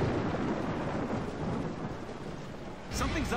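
Steady hiss of heavy rain from the Gears of War 2 storm level fills the scene, with a deeper rumble of thunder swelling near the end; constant and fairly loud, no talk over it.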